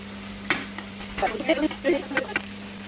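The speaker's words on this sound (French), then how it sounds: "Je vais bien mélanger tous mes légumes pour qu'il y ait un peu de tout partout" Vegetables are stirred in a pot while preparing fish with vegetables. A utensil scrapes and clinks in short, close strokes over a soft, steady sizzle and a low background hum.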